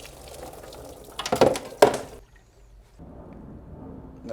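Old engine oil from a V8 BMW E39 M5 gushing out of the drain plug hole into a pan, a short loud splashing pour that tapers off into quiet, with a softer trickle returning near the end.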